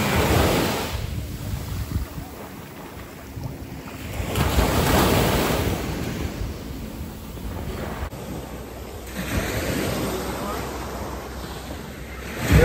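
Ocean waves at a beach in Runaway Bay, St Ann, Jamaica surge and wash in repeated swells, with wind buffeting the microphone and a faint voice now and then.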